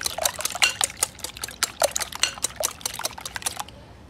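Five whisked eggs are poured into a stuffed-crab mixture, giving a close, irregular series of soft wet splashes and glugs that trail off after about four seconds.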